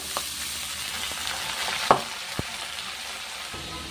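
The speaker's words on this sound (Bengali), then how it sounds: "আমার তেলটা ভালো হয়ে গেছে, এবার আমি শাকটা দিয়ে দিচ্ছি" Fenugreek greens frying in oil with potato and green chili, a steady broad sizzle throughout with a couple of sharp clicks of a spoon or pan, no voices.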